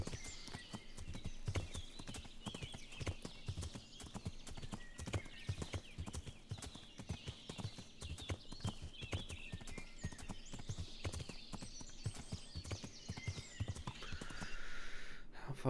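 Galloping horse in the medieval video game Kingdom Come: Deliverance, with steady rapid clip-clop hoofbeats throughout, an occasional whinny, and tack and ambient game sounds, close and continuous with no talking.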